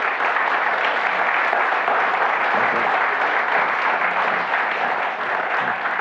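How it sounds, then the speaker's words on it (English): A large audience applauds in a dense, sustained burst of clapping that stays loud and even throughout. "Let's hear one more huge round of applause for Mr. Ken Fowler and his family for coming"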